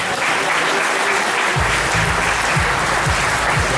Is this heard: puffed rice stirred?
no